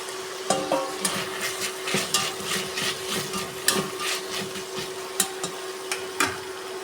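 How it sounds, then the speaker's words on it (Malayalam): Ingredients, including carrot, mint and coriander leaves, sauté in a pan for prawn masala rice. A soft sizzle runs under frequent light scraping and tapping from a stirring spoon, with no speech. "ഏകദേശം വഴറ്റിയെടുത്തിട്ടുണ്ട്."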